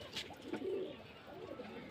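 Giribaj pigeons from Murshidabad coo softly at a pigeon sale, a brief low burbling call heard close against a faint background.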